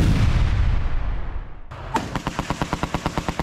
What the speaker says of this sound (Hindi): विस्फोटक लगाकर हमास के सेंटर को तबाह किया जा रहा है।